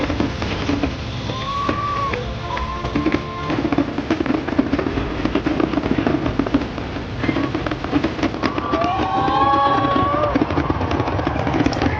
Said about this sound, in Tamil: கடைசி 2 மினிட்ஸ் வந்து கேப்பே விடாமல் வெடித்து தள்ளிட்டாங்க